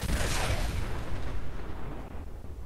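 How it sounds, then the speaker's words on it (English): Small explosion in the game Fallout 4: a loud, rumbling boom at the very start that fades into a low, dwindling roar over a few seconds. "Cool. A little tiny explosion."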